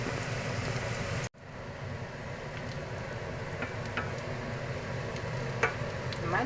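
Quinoa and lentils browning in a hot pan, giving a steady, close sizzle with faint ticks and crackles, broken once by a brief drop to near silence.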